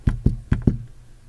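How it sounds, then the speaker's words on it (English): Four quick, hollow double-finger knocks on the screen of an LG G7 ThinQ phone, close and crisp, with a brief pause after the second tap and no voice. "If you get really nice with it, you can do the two-finger knock."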